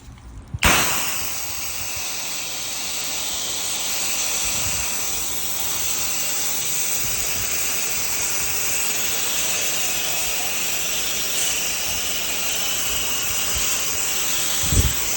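A roof being rinsed during a large roof cleaning job on a cold day, with a strong, steady hiss of spraying water that starts abruptly and runs on without a break, and no talk.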